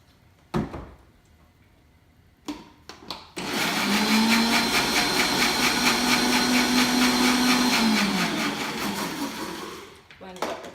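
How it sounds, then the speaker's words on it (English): A countertop blender whirs at high speed for several seconds, blending homemade dressing ingredients, starting abruptly after a few clicks and bumps, holding a steady droning roar, then winding down. "Blend those up."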